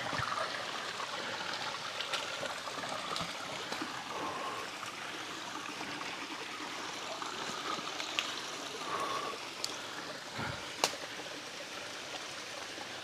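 A river flows near a hidden lagoon in Tua, Magallanes, Cavite, a steady close rushing and trickling stream with occasional small splashes and clicks.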